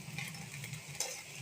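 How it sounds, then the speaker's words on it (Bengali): Jute leaves fry in a pan with cumin, garlic, turmeric and salt while a utensil stirs them. There is a soft, close sizzle with light scraping strokes and one sharper clink partway through. "দিয়ে একটু নাড়াচাড়া করে নেব"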